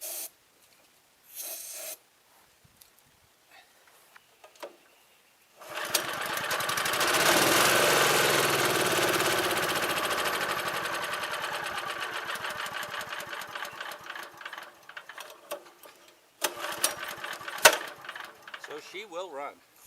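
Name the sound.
abandoned wood chipper engine running after brake clean spray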